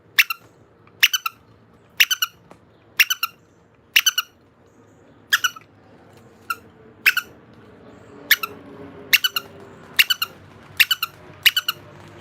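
A repaired vintage Ideal Giggles doll gives a squeaky, chirping mechanical giggle, repeated in steady bursts of two or three about once a second for the whole stretch, close and clear over a quiet background.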